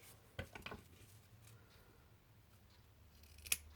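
Scissors snipping a small piece of shiny ribbon, a couple of quick faint cuts near the start and a sharp metallic snip at the end, quiet and close with no voices.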